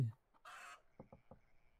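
Chickens clucking in the Fabledom video game, a few short, close clucks in a quick rhythm with a brief noisy burst before them.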